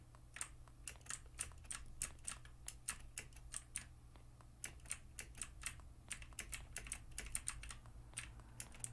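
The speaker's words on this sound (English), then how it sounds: "Excuse the keys if it's getting relatively loud for my clickety clackety." Clicky computer keyboard keys are typed in quick, irregular bursts of sharp clacks over a low, steady fan-like hum, with no talking.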